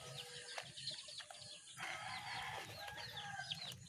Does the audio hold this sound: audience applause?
no